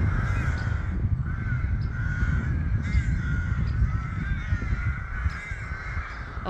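A noisy flock of crows caws over and over from their nests, harsh calls overlapping steadily and fairly close, with constant rustling and background noise underneath.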